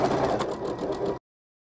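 A sewing machine runs steadily, stitching around the outside edge of a fabric picnic roll with a wider stitch, a close, continuous whirring drone that stops abruptly after about a second.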